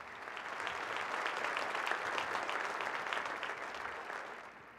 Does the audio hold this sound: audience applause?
yes